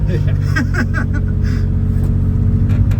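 A car engine rumbles steadily with a deep, continuous low drone, loud and close throughout.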